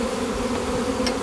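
Honey bees freshly shaken down from hive frames into a box during swarm-cell removal, a steady close buzzing hum that fills the clip without pause.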